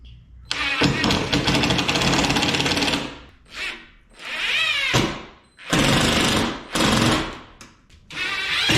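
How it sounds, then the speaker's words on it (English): Power driver sinking a run of screws into a box truck camper wall, several loud whirring bursts of varying length separated by short pauses, close up. "finish screwing in like the other sides, put a bunch of other screws in it"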